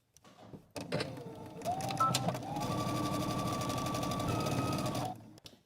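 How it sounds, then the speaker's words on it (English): Domestic sewing machine stitching a garment hem at normal stitch length: a steady, fast mechanical whir and rattle runs continuously for several seconds, close and fairly loud, following a few brief handling clunks at the start. "I'm starting at my hem and I'm using a normal length stitch."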